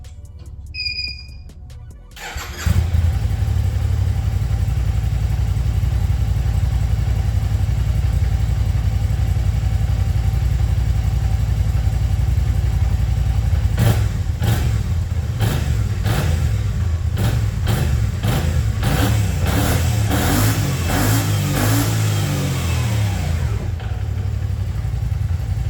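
A KYMCO AK 550 scooter with its stock exhaust cranks and fires up close, settles into a steady idle, then gives a series of quick throttle blips before returning to idle, with no talking.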